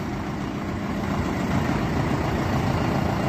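A Solis 105 tractor idles during loading, its diesel engine giving off a steady, close, low rumble that holds an even level throughout, with no voices.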